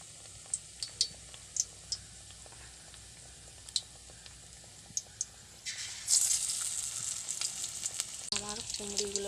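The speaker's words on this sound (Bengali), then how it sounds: "এরপর ডুবো তেলে ভেজে নিতে হবে।" Pumpkin fritters deep-frying in oil with a steady bright sizzle and sharp crackling pops, getting louder and denser toward the end as batter hits the hot oil, close by with no talking.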